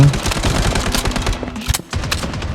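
MP5 submachine gun fire in the BloodStrike shooter game, loud continuous rapid bursts with a brief pause near the end before firing resumes, with no talking over it.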